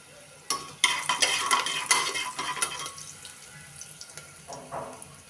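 Spoon stirring dal in a pot with turmeric and asafoetida, giving quick clinking scrapes and knocks up close that settle into softer, sparser taps, alone.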